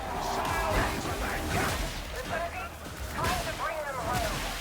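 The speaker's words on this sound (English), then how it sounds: "So many grenades exploding." Chaotic Warhammer 40,000: Darktide combat with many grenades exploding in quick succession, dense crashing blasts and gunfire-like bursts layered over one another throughout, with voices in the mix.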